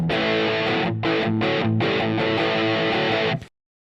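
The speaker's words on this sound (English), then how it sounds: "this is a very, very, very cool distortion pedal" Heavily distorted electric guitar chords through a distortion pedal model in a Line 6 Helix ring out loud and sustained, with a few brief rhythmic breaks before cutting off abruptly.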